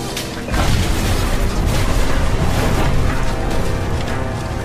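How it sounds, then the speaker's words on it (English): A loud, sustained rumbling blast with crackling bursts, booming close and heavy for several seconds, as an explosion rips through the remains of a crashed Boeing 747. "an explosion rips through the remains of the plane"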